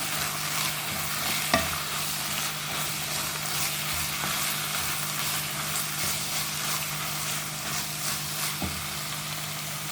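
Minced meat and onion frying together in a pan, a steady close sizzle with periodic scraping stirs and occasional sharp spoon taps over a low constant hum.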